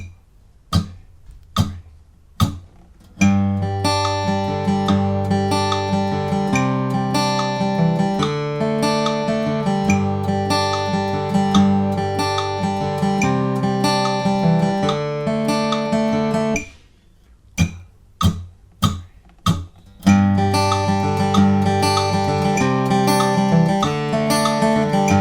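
A song's verse fingerpicked on acoustic guitar, played twice, first slower and then at full speed, with a few isolated plucked notes before and between the two passes. The guitar plays alone with no talking.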